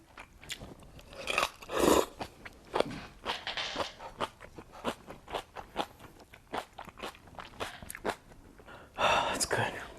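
Crunchy kimchi eaten alongside Parasite-style noodles produces repeated close crisp bites and chewing crunches, irregular but frequent, with a few wetter squishy mouthfuls between them.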